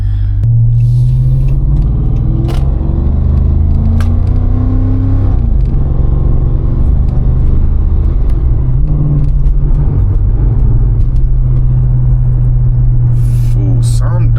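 A Chrysler fitted with SRT upgrades drives along with a loud, deep engine rumble and shifts in pitch as it accelerates, heard from inside the car with a voice talking now and then.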